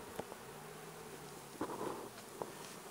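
Buckfast honey bees humming faintly at a hive during an inspection, a soft low buzz with a few brief close bumps and taps of movement.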